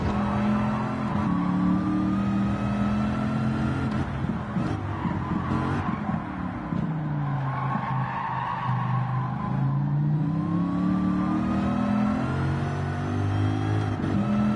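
A stock car with stock exhaust drives at speed, its engine note rising and falling steadily and loudly throughout, with tire noise and a wavering hum filling the cabin.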